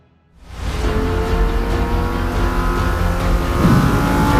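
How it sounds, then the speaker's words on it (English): A Lamborghini Huracan EVO rear-wheel-drive engine barks to life and holds a loud, sustained rev, close and dominant with no talking over it. "This is the brand new Lambo Huracan EVO rear-wheel drive."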